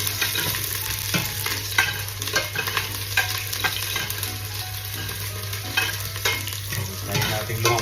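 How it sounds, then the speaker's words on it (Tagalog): Garlic and onion sautéing in a hot pan as a spoon stirs them: a steady loud sizzle with repeated scraping strokes, close up, no voices. "Haluin natin."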